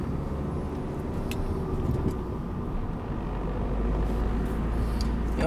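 Car accelerating while merging onto a fast road during a driving lesson, a steady low engine and road rumble heard from inside the cabin, fairly constant in level, no talk.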